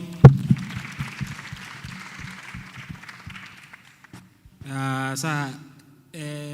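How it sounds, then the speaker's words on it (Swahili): A congregation at a youth Sunday service claps for several seconds, with the applause thinning as it fades out. A voice then cuts in briefly over a quiet room. "Na hebu pigiani makofi."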